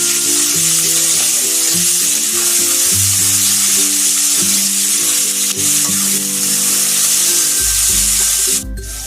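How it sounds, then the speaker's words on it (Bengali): Chopped tomato and onion fry in a pan with a loud, continuous close sizzle and occasional stirring scrapes, set against background music. "এখন আমি টমেটো পেঁয়াজ ভালো করে ভেজে নিই"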